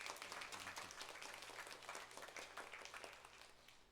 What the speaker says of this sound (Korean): 우리 다 같이 박수를 통해 감사 마음을 전하도록 하겠습니다